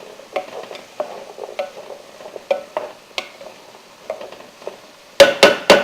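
Chunky peppers stirred in a hot pan, a series of sharp utensil taps and scrapes in an uneven rhythm, growing louder with three hard knocks at the end, close and with no talking.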